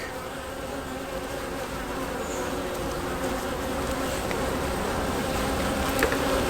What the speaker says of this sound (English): The bees are getting a little angry now